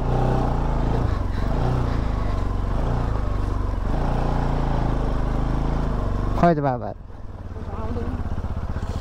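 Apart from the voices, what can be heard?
scooter engine riding uphill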